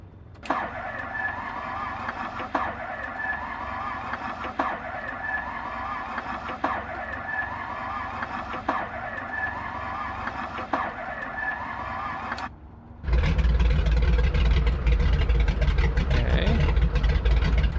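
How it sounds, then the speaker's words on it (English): A flying boat's engine in a flight simulator is cranked by its starter with a rhythmic whirring and periodic clicks, then catches after a brief pause and settles into a loud, steady roar. "we will engage the starter, and we will put it to automatic reach as soon as engine fires"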